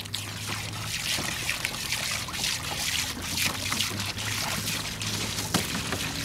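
A garden hose sprays water in a steady, hissing rush with splattering bursts as the stream hits surfaces, continuous and close throughout.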